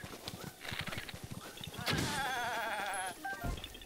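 Goat bleating in the video game Zelda: Breath of the Wild, a wavering, loud cry lasting about a second amid busy game sounds and quick hoof-like clops, no talking.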